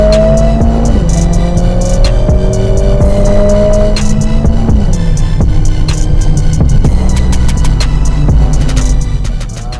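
A 2020 Mercedes-Benz CLA45 S in race mode pulls hard, its loud, close engine note climbing through the gears with sharp drops at each shift, then settling into a steady heavy drone.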